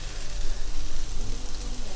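Steady rain falling at a campsite beside a motorhome, a dense continuous hiss of drops pattering on surfaces, fairly loud and close with no talking.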